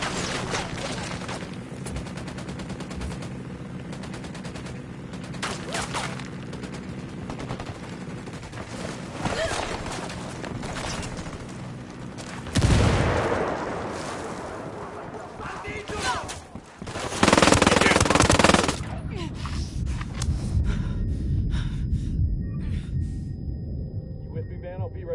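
Rapid automatic gunfire in Ghost Recon Wildlands, dense bursts of shots crackling through most of the stretch, with a louder burst of fire near the end and a voice talking under it.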